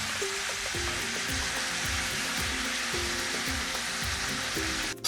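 Onions browning in a pan with salt, for stuffed eggplant, give off a steady, close, loud sizzle and frying hiss with soft rhythmic bubbling underneath, cut off abruptly at the end.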